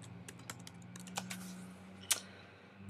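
Typing on a computer keyboard, a scattered run of light key clicks with one sharper tap near the end, close and quiet with no speech.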